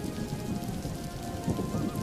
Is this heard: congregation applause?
no